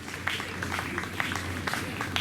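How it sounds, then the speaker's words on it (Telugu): Light, scattered clapping from an audience at a 10th class student achievement awards ceremony, a thin steady patter of hands with a few sharper claps throughout. "మీరు చప్పట్లు కొంచెం గట్టిగా కొడితే బాగుంటుంది, చాలా చప్పగా ఉంటున్నాయి."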